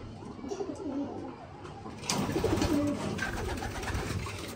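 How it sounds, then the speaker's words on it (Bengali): A Lambadi pigeon coos nearby, a few low, soft, throaty calls heard over a steady background rustle. "এই লাম্বাডি পায়রা এই একটা আছে"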